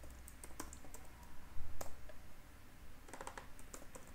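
Fingers type code on a computer keyboard in quick bursts of light clicking keystrokes, close and fairly soft, with short pauses between runs of keys.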